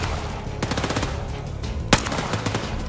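Bursts of gunfire in Overkill's The Walking Dead crackle over a dense, steady background, with a sharper, louder shot standing out near the middle.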